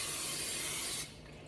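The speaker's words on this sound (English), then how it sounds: "So I'm gonna spray the top of them" Cooking spray hisses steadily in one continuous burst onto the tops of food for the air fryer, close and fairly quiet, then cuts off into a soft background hum.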